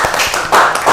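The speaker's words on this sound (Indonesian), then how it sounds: "Tepuk tangan buat kita semua" Students in a classroom clap their hands together in brief bursts, a few loud, close claps over about a second.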